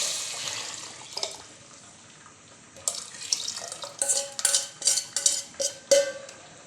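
Water is poured into a tamarind fish curry in a pot, making a series of short splashing, gurgling bursts that come louder and quicker toward the end over faint background noise.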